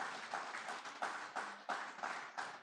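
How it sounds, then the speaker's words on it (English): A small, quiet group claps for security operatives at a Democracy Day public lecture, giving sparse, uneven hand claps that rise and fall in loose bursts without any talking. "I think they deserve a round of applause."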